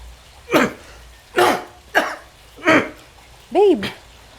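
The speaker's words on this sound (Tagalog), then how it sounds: "Babe, ano ba yung ubo mo? Hindi na yan gumaling ah." Several separate coughs from one person, five bursts spaced roughly half a second to a second apart, close and fairly loud, the last one more drawn out and throaty; no talking.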